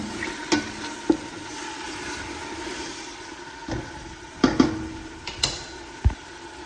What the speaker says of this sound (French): À l'aide d'une cuillère en bois, je viens bien retourner les morceaux pour les faire dorer de tous les côtés.